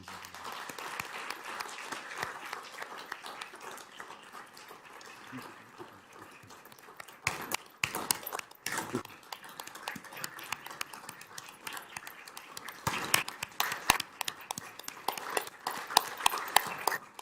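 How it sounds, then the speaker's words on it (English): An audience at a school board meeting claps for award recipients, faint scattered applause that swells into denser, louder bursts partway through, with no talk over it. "Could we give them a round of applause"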